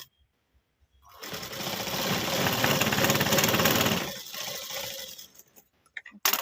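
A tailoring sewing machine stitches a blouse hook strip in one continuous whirring run of about three seconds, then slows to short stuttering bursts and a few clicks, close by with no talk.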